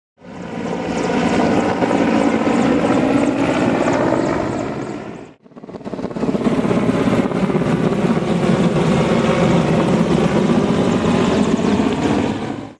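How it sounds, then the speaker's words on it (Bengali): Loud, close helicopter flying very low over a railway station, a continuous chopping engine roar that cuts out briefly near the middle before returning just as strongly. "ব্লগের প্রথমে অর্থাৎ শুরুতেই হেলিকপ্টার দেখলাম এতটাই নিচে"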